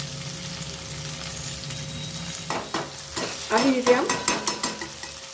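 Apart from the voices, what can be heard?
ginger and green chilies sautéing in a clay pot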